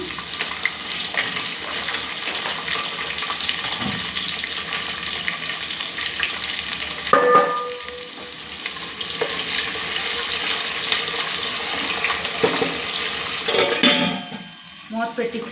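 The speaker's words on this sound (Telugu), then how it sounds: "అవి బాగా ఫ్రై అయ్యాయండి ఈ లోపల మనం ఆనియన్స్ కూడా వేసుకుంటున్నాము" Chopped onions and green chillies frying in a pan for gongura chicken biryani, a loud continuous sizzle close up with brief utensil clinks and stirring scrapes.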